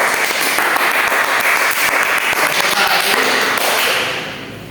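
A classroom of students claps loudly in unison, close and dense, with the rhythmic clapping sustained for several seconds before tapering off at the end.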